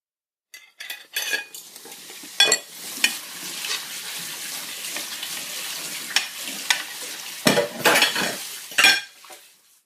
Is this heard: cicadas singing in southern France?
no